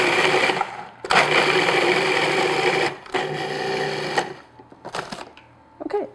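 A food processor grinds graham crackers into crumbs in loud, steady whirring pulses of one to three seconds, with brief pauses between them.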